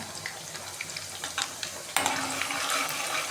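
Garlic drops into hot oil with mustard seeds, setting off a sudden stronger sizzle and crackle after quieter spattering, heard close up.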